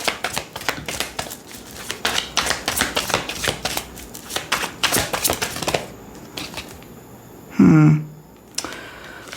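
Rapid, crisp riffling and slapping of oracle cards being shuffled close by, in quick bursts, then a brief pause and a short muffled thump.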